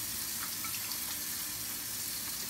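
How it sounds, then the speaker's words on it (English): Warm tap water runs steadily into a sink while hands are washed, a continuous close hiss and splash with faint irregular spatters. "we're gonna start again by washing my hands"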